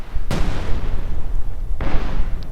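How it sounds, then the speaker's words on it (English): Artillery fire in the Company of Heroes 2 strategy game: two heavy booming blasts, the first near the start and the second about a second and a half later, each trailing off over a steady low rumble. "we do see that there's a bit of preventive artillery going on"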